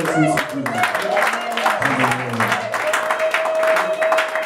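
Applause from an audience at a French-language church conference, steady clapping filling the room with singing or talk mixed over it throughout.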